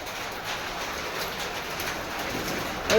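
A steady, dense patter of falling hail drums on surfaces in Bhubaneswar, a continuous hiss with no voices.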